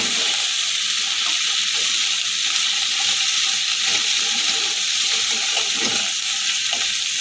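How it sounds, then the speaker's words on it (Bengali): Water spinach and slit green chillies fry loudly and continuously in a pan, giving an even, dense sizzle with faint stirring clatter underneath, close to the listener and without talk. "শাকগুলো দিয়ে দেবো আর এটা কাঁচা লঙ্কা চেরা ছিল সেটা সব একসাথে ভালো করে নেড়ে চেড়ে নেবো"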